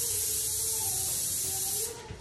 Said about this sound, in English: One, you can spray them like this